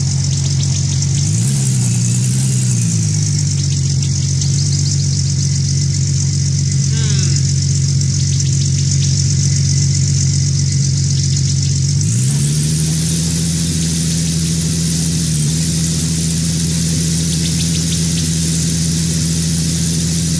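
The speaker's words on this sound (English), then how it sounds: "It seems like this hurts the engine driving backwards." A vehicle engine in the video game Gold Rush hums steadily while driving backwards, a loud continuous drone that shifts pitch partway through and then holds at a higher, strained level.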